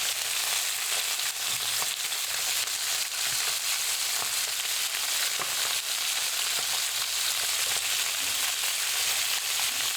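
Coca-Cola chicken wings fry in a pan, with a loud, dense, continuous sizzle and spatter that holds steady throughout, heard close up and without any voices.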